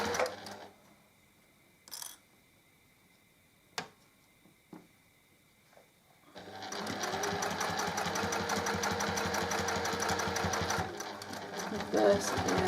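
Sewing machine stitching a zippered pouch with bias binding, starting with a few clicks and short bursts, then running steadily and loud near the end, with talking over it.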